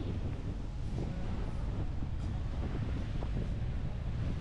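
Steady wind blows at a beach in El Nido, Palawan, buffeting the microphone as an even, rumbling roar that holds for several seconds with no voices.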